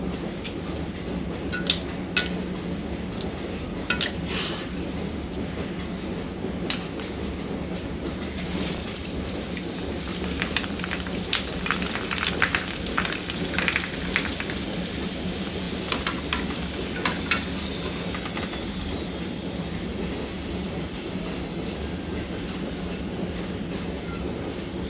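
Ready-made puri pellets fry in hot oil, dropped in one at a time, giving a steady rumbling sizzle that swells into brighter crackling bursts midway, with no talking.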